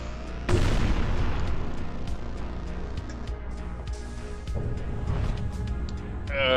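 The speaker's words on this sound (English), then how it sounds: "That's a grenade." Sudden sharp grenade blast in the game Vortica, followed by a second muffled boom and scattered gunfire and game effects at close range.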